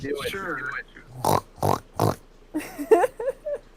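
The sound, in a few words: person imitating a pig's oink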